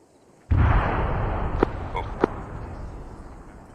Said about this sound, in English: we just heard the explosion to our direct west